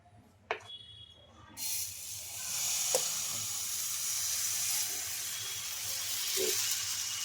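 A puffed rice (murmura) dosa sizzles and hisses steadily on a hot pan, a loud continuous frying hiss that begins after a light tap and carries on alone to the end with a few soft clinks.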